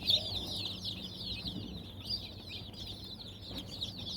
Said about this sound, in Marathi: 72 पिल्ले निघालेले आहेत आणि खूप चांगले आहेत